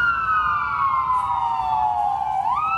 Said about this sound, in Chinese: 消防车火速到场